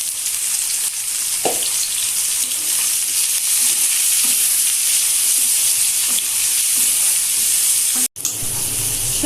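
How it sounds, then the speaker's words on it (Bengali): Vegetables with salt and turmeric sizzling steadily in a hot pan for a Bengali spicy fish curry, a continuous bright frying hiss with occasional soft stirring scrapes, close and without talk. "সবজিগুলো একটু ভালো করে এভাবে ভেজে"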